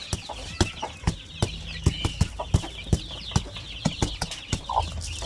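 Asil chickens clucking in an outdoor poultry range area, with a steady run of short, sharp clucks and calls at close range, birds overlapping with no talk.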